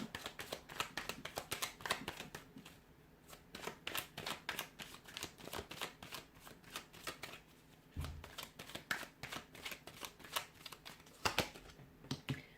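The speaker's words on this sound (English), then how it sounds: "I'm going to give the cards a shuffle" Tarot cards are shuffled over and over in quick, crisp riffles and flutters, close and fairly quiet, with brief pauses between bursts.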